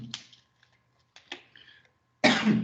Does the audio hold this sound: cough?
yes